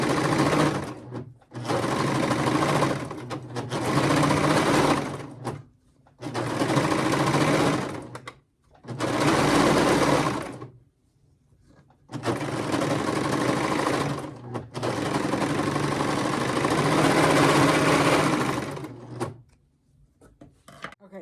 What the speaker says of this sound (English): serger actually does a cover hem, and it does a pretty darn good job